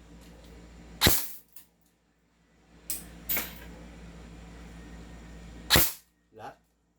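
Upgraded airsoft M4A1 carbine firing single shots: four or five sharp, close cracks spaced irregularly over several seconds against a low background hum.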